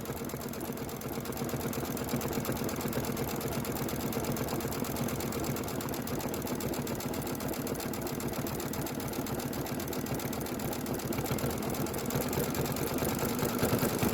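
An embroidery machine stitches a window satin outline in a rapid, even mechanical chatter that runs steadily and close up for the whole stretch, with no talking.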